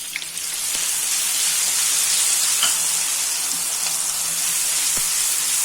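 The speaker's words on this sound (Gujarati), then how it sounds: "હવે ટામેટું નાખી દેશું।" Chopped tomato hits browned onions in a hot pan for a Kathiyawadi spicy gathiya curry, giving a steady, loud, broad sizzle of frying with faint crackles throughout, no voices.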